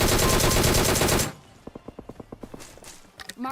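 Scorpion gunfire in PUBG Mobile: a dense, loud automatic burst for over a second, followed by a quieter string of evenly spaced single shots or footstep-like thuds and a final short burst.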